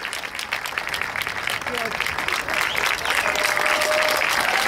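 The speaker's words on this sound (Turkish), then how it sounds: "alkışlarınızla sahneye davet etmek istiyorum." A festival audience in Giresun, Turkey, applauds as a veteran Turkish film actress is welcomed onto the stage. The clapping is loud, dense and continuous and grows slightly fuller toward the end, with faint voices underneath.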